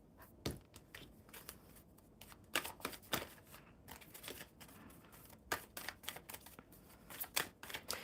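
Oracle cards are shuffled by hand in soft, quick riffles and flutters with irregular crisp snaps, close and fairly quiet, with no voices heard.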